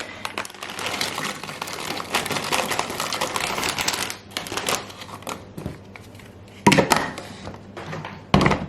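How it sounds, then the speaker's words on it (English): A Ninja blender pulverizes pork rinds into crumbs with a loud, dense, rattling grind, then stops and starts in short bursts with gaps between them, close by and without talk. "We're going to put this in my Ninja and go ahead and pulverize this so that it's more of a breadcrumb consistency."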